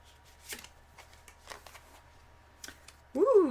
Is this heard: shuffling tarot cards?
yes